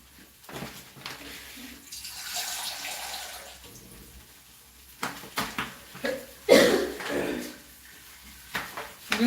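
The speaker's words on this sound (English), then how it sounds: "So I'm going to add some water." Water is poured from a tap or jug into a cooking pan of small fish, a soft running splash that rises and falls over kitchen clatter, with faint talk in the background.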